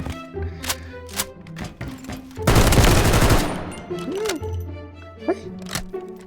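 Gunfire in the mobile shooter Delta Force bursts out as a dense, loud volley lasting about a second, surrounded by scattered clicks and short sounds, with a voice talking around it.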